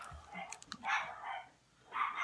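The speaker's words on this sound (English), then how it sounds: "I have no idea why my dog is barking" A dog barks indoors at night, two or three short, fairly faint barks with a pause between them, heard in a quiet room.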